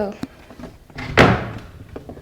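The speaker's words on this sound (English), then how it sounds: "This latch was not fully locked. So I just pushed this and it would only open this much." A latched bedroom door that was not fully locked is pushed open and stops partway, giving one loud close thump followed by a fading rumble, with a few light knocks and a faint voice around it.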